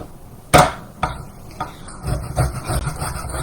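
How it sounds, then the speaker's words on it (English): A lemon is zested on a kitchen grater in place of a zester, giving a sharp knock followed by a few soft, scratchy scraping strokes close by. "I'm going to put lemon zest like it tells me to"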